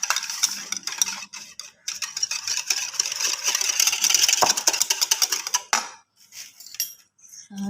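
Four tablespoons of cream are beaten briskly in a bowl, with a rapid metallic clatter of utensil against the bowl in fast bursts that stop and start near the end.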